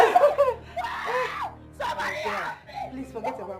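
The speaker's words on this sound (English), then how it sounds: "This scream is not ordinary." A woman screams and cries out in a tense Nollywood drama scene, with loud, shrill, broken bursts of emotional vocalizing separated by short gaps.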